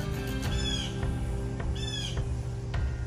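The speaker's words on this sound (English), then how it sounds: "the crow won't be quiet" A crow caws loudly and close by outdoors beside a school bus being converted, giving two harsh caws about a second apart over a steady low background hum.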